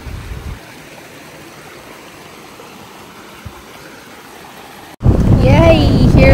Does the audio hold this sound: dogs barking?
no